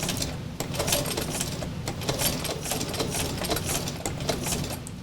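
A sewing machine stitches through paper coloured with alcohol inks, running steadily and loudly with a dense, rapid needle rhythm across the whole stretch, with no talking.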